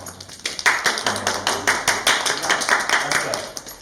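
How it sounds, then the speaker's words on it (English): An audience claps for a student's final project presentation, a brisk run of many overlapping hand claps that starts after a short pause and carries on steadily without letting up. "Please give these guys a big round of applause."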